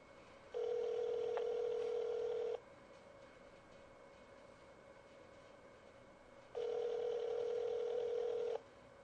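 Telephone line tones while dialing through a list of callers: two long steady beeps, each about two seconds, separated by a quieter stretch of faint line hiss.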